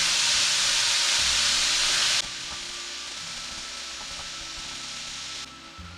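Ground beef and pork browning in a pan give off a steady bright sizzle and hiss, louder at first, then softer and continuous, with faint scraping underneath and no talking.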